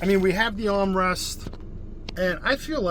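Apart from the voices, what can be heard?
No everyday noises stand out.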